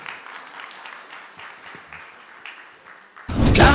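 Audience applause for a Haitian compas musician at a talk on compas music breaks out loudly in the last half second, after a stretch of quieter background sound.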